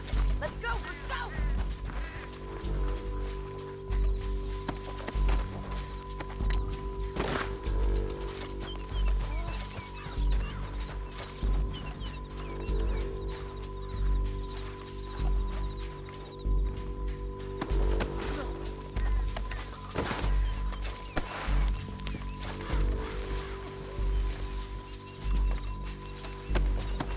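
Horse hooves in the Red Dead Redemption 2 video game, a rhythmic clip-clop of riding under game music and ambience, with shouting voices intermittently over it.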